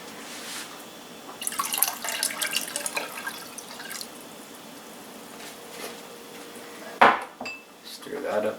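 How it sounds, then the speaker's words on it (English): A spoon clinks and scrapes against a metal pot while tea is stirred into a banana wine mixture, in short bursts of rattling with a louder knock near the end, close by. "Stir that up a little bit."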